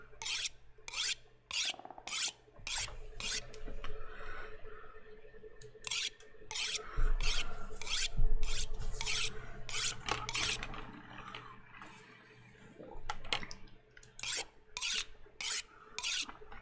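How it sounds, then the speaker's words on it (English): Repeated rasping strokes of a blade being sharpened on a whetstone in The Long Dark survival game, a steady run of close, rhythmic scrapes with short pauses and a low background hum. "Now I've got a whetstone, so let's sharpen this."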